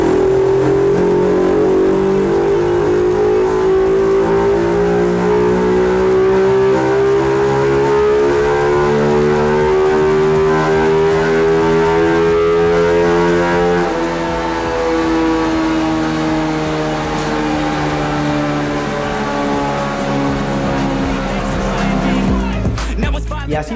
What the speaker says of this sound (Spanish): Y así pasó por nuestro banco de pruebas nuestro escape Paolucci Silent Guns.